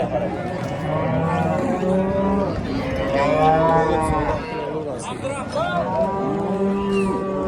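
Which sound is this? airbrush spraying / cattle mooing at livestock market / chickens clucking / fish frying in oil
cattle mooing at livestock market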